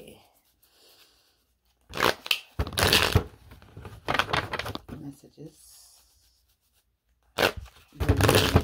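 Bursts of riffling, flapping card shuffles come in several short runs separated by quiet pauses, close up, with a brief spoken word early on.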